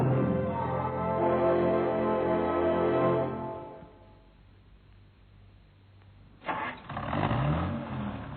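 An old car's engine turns over and runs loudly near at hand, a steady mid-pitched rumble for about three seconds, then drops away to quiet before a brief rattle and renewed engine noise.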